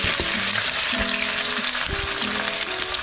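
Potatoes fry for corned beef, filling the pan with a loud, steady, close sizzle and hiss, with utensil scrapes and stirring knocks breaking in now and then.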